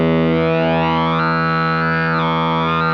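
A Rainger FX Dr. Freakenstein Chop Fuzz pedal putting out a loud, sustained distorted fuzz tone, thick with harmonics and gliding overtones that shift in pitch, playing alone.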